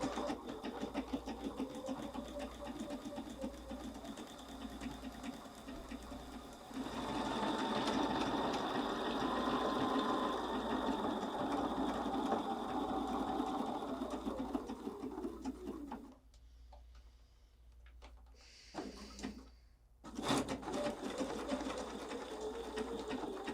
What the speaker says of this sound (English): let's go to the machine and let's put in our decorative stitch and we'll complete our ornament.